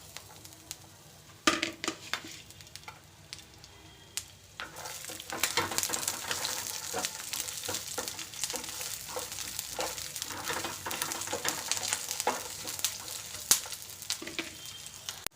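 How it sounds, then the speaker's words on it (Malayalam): Garlic frying in oil in a pan for a garlic chutney, a steady crackling sizzle that swells after a quieter start, with occasional louder pops and scrapes of stirring throughout. "നമുക്ക് ആ എണ്ണയിൽ തന്നെ വെളുത്തുള്ളി ഒന്ന് മൂപ്പിച്ചെടുക്കാം"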